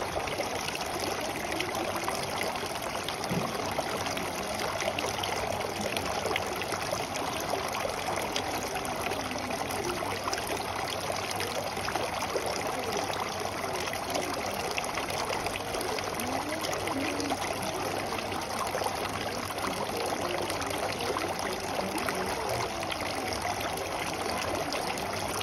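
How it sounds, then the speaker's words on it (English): Water splashes and trickles steadily in an outdoor fountain, a continuous even wash of flowing water heard close and alone. "Hear the sound of water."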